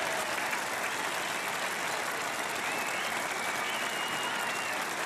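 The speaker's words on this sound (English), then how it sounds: "And a big applause now from Mike Gatting" A cricket crowd applauding and cheering for batsman Mike Gatting, a dense continuous roar of clapping and voices at steady loudness throughout, heard from a distance in a large ground.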